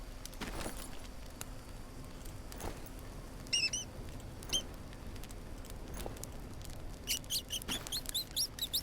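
Small mouse squeaks from the Green Hell survival game chirp in short, high bursts, a few scattered mid-clip then a quicker run near the end, over a faint patter of rainy jungle ambience.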